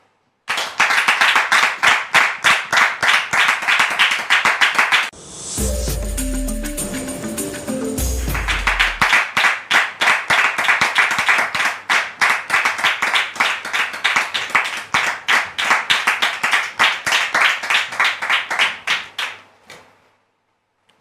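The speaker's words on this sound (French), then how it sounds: "vous demander de les recevoir avec vos applaudissements" A studio audience on a French-language TV talk show applauds arriving guests, loud rhythmic clapping that runs through most of the stretch, broken briefly by a burst of music, then fading out at the end.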